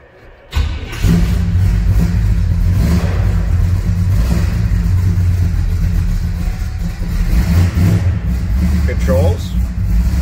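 A 1964 Chevrolet C10 shortbox street rod engine cranks and catches, then runs and revs with a loud, close, steady rumble for several seconds. There is no talking over it.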